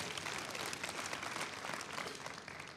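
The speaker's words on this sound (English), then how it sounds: "Give yourselves a hand clap." A church congregation applauds at an Easter service, steady dense clapping filling the room for a few seconds at moderate volume with no voices on top.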